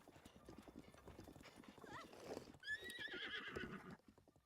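A horse in the video game The Legend of Zelda: Breath of the Wild trots with rhythmic clip-clop hoofbeats, then lets out a clear, rising whinny, all at low volume.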